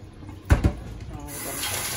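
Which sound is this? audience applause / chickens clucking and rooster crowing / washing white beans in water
washing white beans in water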